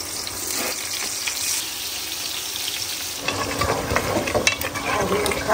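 Ghee sizzles in a pan during the making of a mutton and potato curry, a continuous hiss that swells louder and busier partway through, with scattered crackles, heard close with no voices.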